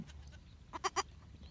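A young hornless goat kid bleats in two quick, close calls, preceded by a fainter one, against low background rumble.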